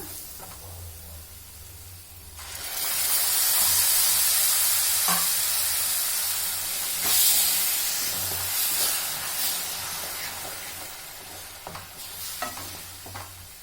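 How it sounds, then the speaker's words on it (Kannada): Tomato paste with coriander powder and turmeric frying in a pan for drumstick gravy, with a loud steady sizzle and hiss that swells after a quiet start. Occasional stirring scrapes sound through it, close up and with no talking. "ಹಸಿ ವಾಸನೆ ಹೋಗೋ ತನಕ ಫ್ರೈ ಮಾಡ್ಕೋಬೇಕು"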